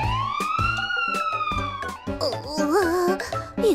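A fire truck siren wails, its tone sweeping up and down, over a backdrop of rhythmic music with punchy beats.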